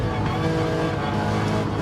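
A race car on a circuit during a training-day race brakes into a corner. Its engine roars loud and steady throughout, with no pause.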